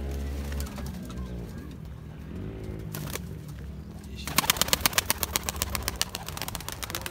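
Pigeons coo in low, repeated rolling calls close by, followed later by a burst of rapid wing claps or flapping, with a faint engine hum in the background.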